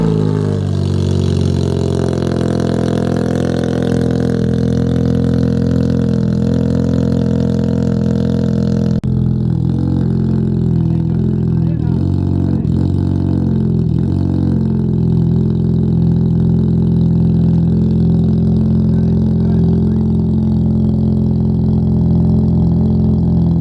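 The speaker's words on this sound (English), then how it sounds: "Okay, so we're gonna get a quick exhaust clip." An 8th-gen 2006 Honda Civic FA5 runs through its aftermarket exhaust, holding a loud, steady engine drone for several seconds, then cutting to sharp, punchy revs that rise and fall repeatedly, close to the car with no talking.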